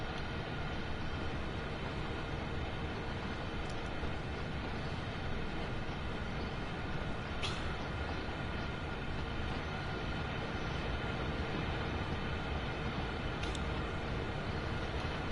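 A long freight train of wagons rolls past in the Train Sim World 2 video game, a continuous low rumble with occasional faint squeals and clanks, sustained throughout.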